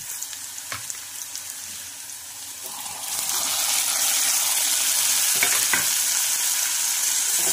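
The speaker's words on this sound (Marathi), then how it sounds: "टोमॅटो घालून झालेला आहे, छानपैकी परतून घेऊया।" Chopped tomatoes and green chillies sizzle and fry as they are stirred in a hot pan, a soft hiss that swells into a steady, loud frying sizzle halfway through with occasional scrapes.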